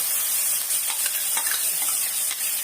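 Ground masala of pepper, cumin, garlic, tomato, onion and curry leaves is stirred into a sizzling fish curry. Loud, close frying and scraping run continuously, with no voices.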